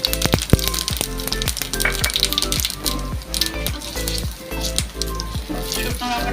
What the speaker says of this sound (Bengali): শুকনো লঙ্কাটা একটু ভাজা ভাজা হয়ে গেল।